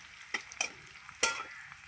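Ginger and garlic go into a frying pan with a soft sizzle, punctuated by three sharp spatula stirs or scrapes in quick succession, close and otherwise quiet.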